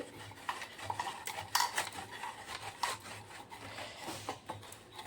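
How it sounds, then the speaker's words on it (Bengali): A block of jaggery is rubbed against a hand grater, making steady rasping strokes close by with occasional sharper scrapes and knocks, with no one talking. "তা আমি গুড়টা একটু গ্রেটার দিয়ে একটু গ্রেট করে নিচ্ছি, তাহলে মিহি হবে।"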